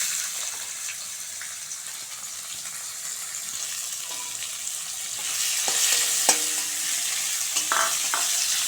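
Chopped onion frying in oil with cinnamon, cardamom, dried chili and bay leaf for a duck curry, a steady soft sizzle that grows louder midway, with occasional stirring clinks close by.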